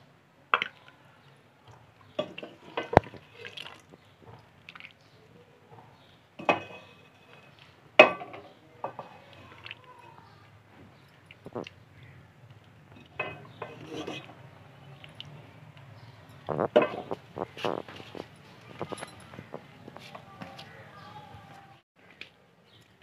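Potato badi curry is served from a pot with scattered clinks, scrapes and soft squishy spoon sounds that come in irregular bursts over a quiet background. A voice talks at times between the sounds.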